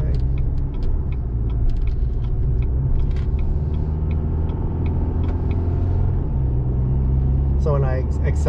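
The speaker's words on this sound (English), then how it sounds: "So when I accelerate to go up this hill, I get 5 miles per gallon." A car engine drones steadily as the car accelerates up a hill on a scenic desert and mountain byway, heard from inside the cabin with constant low road rumble and a short voice near the end.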